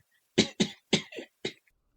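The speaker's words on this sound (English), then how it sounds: "A faint, quivering cough sounded as though from nowhere." A series of five faint, shaky coughs in quick succession, with short pauses between the bursts and silence before and after.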